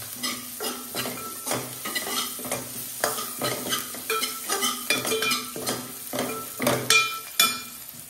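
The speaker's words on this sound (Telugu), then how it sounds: "ఇంగువ వేసా కొంచెం." Asafoetida sizzling in hot oil in a pan while being stirred, with repeated scraping strokes of a utensil against the pan in a steady rhythm over a continuous frying hiss, close and fairly loud.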